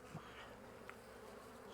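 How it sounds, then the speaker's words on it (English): Honeybees swarm over an open hive where they are building comb, a steady, dense insect buzz filling the short moment with no voices. "There, bees are building comb."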